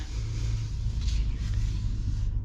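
2025 Ram 1500 Longhorn pickup truck pulling away, a low steady engine rumble with a faint rise in revs, heard briefly and close without any talk.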